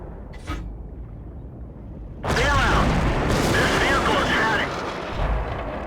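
Artillery shells striking a Sturer Emil tank destroyer in World of Tanks, a sudden heavy boom followed by roaring, crackling impact noise and a second burst, loud and close over a low rumble, with a voice speaking under it.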